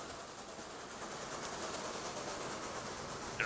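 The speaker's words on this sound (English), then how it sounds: "but at least this freight train is making its way back to pick up more iron ore." Freight train running in the Transport Fever 2 game, a steady faint rolling rumble with soft clattering and hiss, continuous and even, with no talk.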